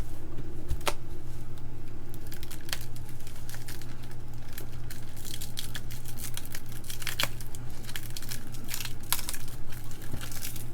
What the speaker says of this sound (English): we will unwrap this wonderful package of goodness